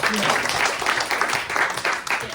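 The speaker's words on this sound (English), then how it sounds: "he's the only one that clapped" Audience applause at a close-up and parlor magic show, a steady wash of hand claps lasting a couple of seconds with a voice speaking over it.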